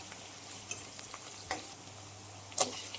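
Chopped onion and green chilli go into hot oil with cumin in a kadhai, crackling softly in a quiet, steady sizzle punctuated by a few light clinks of utensil against the pan.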